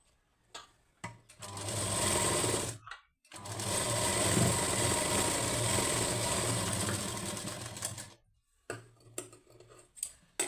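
Sewing machine stitching a blouse lining, running in steady bursts with brief pauses between, close and fairly loud, with short mechanical clicks at the start and end.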